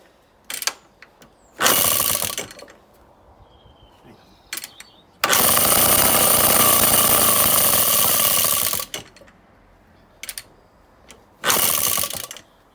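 Small ATCO lightweight lawnmower with a kick-start two-stroke Villiers engine, being restored, fires in bursts: a couple of short sputtering catches, then a loud rough run of about three seconds before cutting out, followed by another brief burst.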